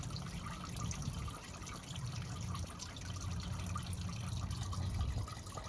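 Diesel fuel draining from the fuel filter of a 2024 Ford F-250 with the 6.7L Powerstroke engine, a steady close trickle of liquid running without a break under a low background rumble.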